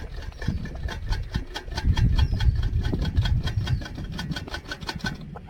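A 1995 Yezdi Roadking 250 two-stroke motorcycle idling close by, a rapid, rough, even engine putter with a bright rhythmic ticking, holding steady for several seconds.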